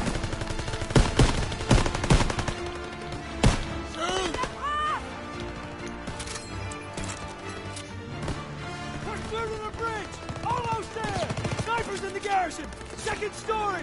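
Gunfire in the World War II shooter Call of Duty WWII: bursts of loud rifle and machine-gun shots, densest early on, mixed with shouted in-game voices and battle noise.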